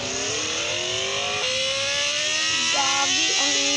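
Motorcycle engine in the mobile game Traffic Rider, a loud, close whine rising steadily in pitch and dropping sharply at each gear shift as the bike accelerates, with no talking.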